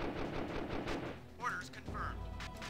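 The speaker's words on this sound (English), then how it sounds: "it is shooting the missile tank weapon" A modded quad in Dune 2000 fires missile-tank weapons in a rapid rattling volley, followed by a couple of whooshing launches and low booms, with a voice talking over the gunfire.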